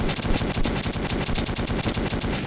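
Rapid automatic gunfire from the Metro 2033 video game, firing military grade bullets in a fast, continuous burst of evenly spaced shots, loud and dense throughout with no talking.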